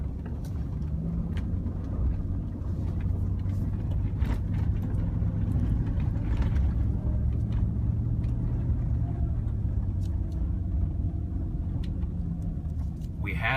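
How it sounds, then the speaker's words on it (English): Car traffic on a country road makes a low, continuous rumble that swells as vehicles pass nearby, with someone speaking over it. "Got some traffic coming here."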